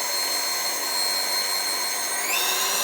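Aieve snack coater machine spinning smoothly, a steady whirring motor hum with bright tonal whine that shifts pitch slightly near the end, continuous and close with no voices.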